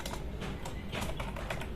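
Continuous close clatter of keys as code is typed on a computer keyboard during Java programming, rapid and steady throughout with no pauses.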